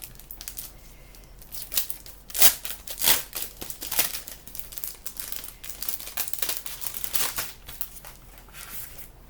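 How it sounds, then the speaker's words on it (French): Crinkling and rustling of a plastic-packaged Stamperia stencil being opened for scrapbooking, a run of close, dry crackles and sharper tearing bursts with no talk. "j'ai préparé un pochoir, hein, qui vient de chez Stamperia. Je vais l'ouvrir."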